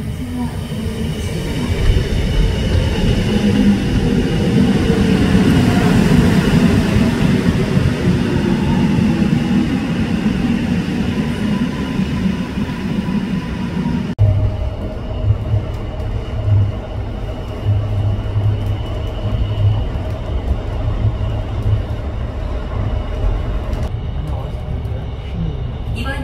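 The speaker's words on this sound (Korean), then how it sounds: "The train bound for Incheon is now approaching." A Suin-Bundang line subway train pulls into a station, a loud steady rumble of wheels and motors that shifts pitch and settles as it slows to a stop, with no voices.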